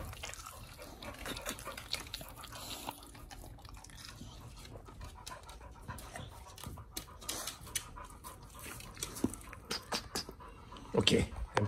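Pit bull dogs pant quickly and let out soft whimpers close by, quiet and irregular, with a few wet sounds and light background voices.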